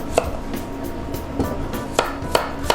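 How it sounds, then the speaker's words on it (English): Onions, carrots and celery being rough chopped with a knife on a cutting board for a red wine short rib braise, giving about five sharp, separated knife strikes at an uneven pace in a quiet home kitchen. "So we're just rough chopping these because these are going to be taken out at the end."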